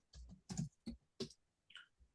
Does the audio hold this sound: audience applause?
no